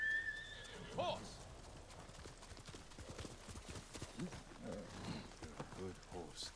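A horse in the video game Ghost of Tsushima whinnies sharply near the start, then hooves clip-clop at a steady gallop while someone talks over them, all fairly quiet.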